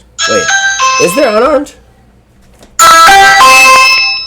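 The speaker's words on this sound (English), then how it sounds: "That is a Ring camera notification." A Ring camera doorbell notification chime sounds twice, loud and close: a melodic ding-dong tone, then a pause, then a second louder, longer ringing burst, with people talking over the first chime.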